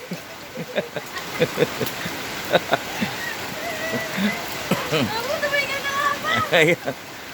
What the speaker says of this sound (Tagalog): malamig ang tubig ng ulan